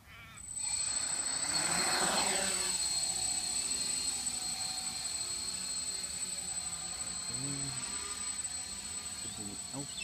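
A Reptile 500 Pixhawk quadcopter on a test flight spins up to a loud, steady buzzing whine with sustained motor tones. The whine shifts slightly as it flies, heard outdoors with no clear talking.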